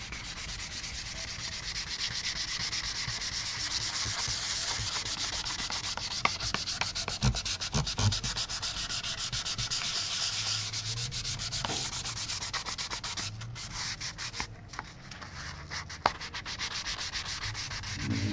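600-grit sandpaper rubs steadily across a kit Les Paul-style wood guitar body, a continuous close scratchy hiss with a few small knocks and no talking.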